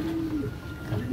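A young racing homing pigeon, a squab being readied for a race, gives a soft low cooing close by, steady and unbroken across the short moment with no talk.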